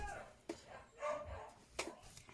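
Dogs bark faintly in the background indoors, a few short scattered barks at a distance amid low room noise.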